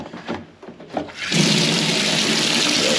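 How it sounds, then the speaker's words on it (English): Water drains from opened plumbing pipes into a Gorilla tub. A couple of soft knocks come first, then a steady, loud gushing flow that continues to the end. "let's crack open this and see if we can drain any water out that may be just sitting in the pipes"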